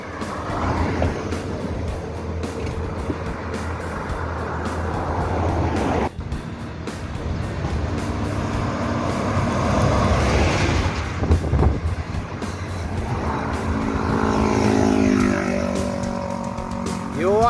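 Two big buses, a Yuanda Prima and a Sun Scania, race each other on a road out of Medan, North Sumatra; loud engine roar swells and fades as they pass, with wind buffeting and voices calling out.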